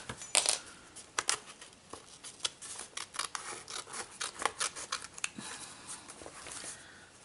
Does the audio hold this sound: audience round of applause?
no